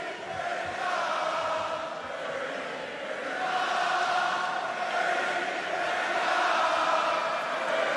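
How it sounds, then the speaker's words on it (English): A capacity crowd at a WWE Monday Night Raw wrestling arena serenades a performer with sustained, steady chanting that fills the whole clip, a dense, far-off roar with no voices standing out. "this capacity crowd is actually serenading Dirty Dom"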